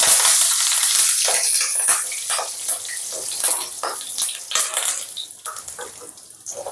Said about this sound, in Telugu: ఈ రెండు వేసి ఫ్రై చేసుకుందాం కరివేపాకు కూడా కొంచెం వేసుకుందాం